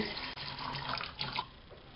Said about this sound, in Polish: Fasolkę zalewam wodą